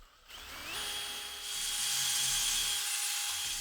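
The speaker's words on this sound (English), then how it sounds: "I can show you that you can do it very easily with just a hand drill." A handheld power drill whines steadily as it bores into wood for a patio lounge chair build, spinning up quickly and holding a high, fairly quiet tone for a few seconds.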